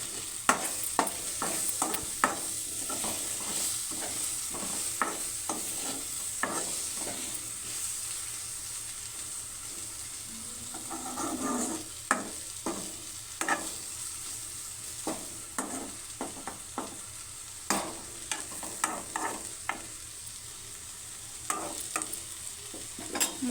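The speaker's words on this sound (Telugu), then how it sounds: "ఒకసారి కలిపేద్దాం." A spoon stirs carrot curry with chilli powder and masala in a pan, making many quick scraping clacks in uneven bursts over a low frying hiss, close and fairly quiet, with no one speaking.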